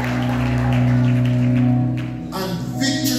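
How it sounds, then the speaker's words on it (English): Church congregation applauding at a New Testament Church of God praise service, a dense wash of clapping mixed with sustained organ-like music tones, thinning out toward the end. "Can you give them a round of applause tonight"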